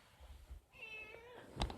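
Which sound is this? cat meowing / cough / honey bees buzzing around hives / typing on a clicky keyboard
cat meowing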